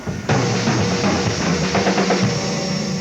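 A drum kit plays a dense, fast run of 16th notes phrased in 3-note groupings, loud and close, with cymbal wash sustained over the strokes.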